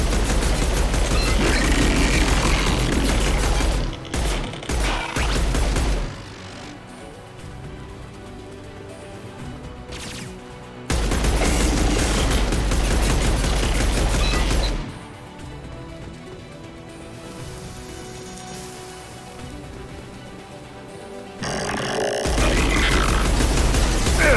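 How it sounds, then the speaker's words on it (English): Heavy gunfire in the sci-fi shooter Mass Effect 2 on the planet Haestrom: loud, dense bursts of rapid fire come in long waves, with quieter gaps of distant shots and rumble between them. "Taking heavy fire!"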